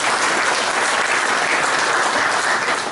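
Sustained audience applause at a French union event presentation, dense steady clapping from a crowd, loud and continuous with no talk over it.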